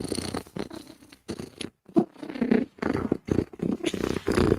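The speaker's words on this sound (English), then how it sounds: "if cat is purring, cat is a happy, happy, happy girl" A cat purrs close up in soft, rumbling bursts broken by brief pauses, with faint rustling alongside and no talking.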